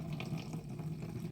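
Liquid jeevamrit poured through a cloth strainer, a faint steady trickle with soft splashing and gurgling for a moment, with no talking.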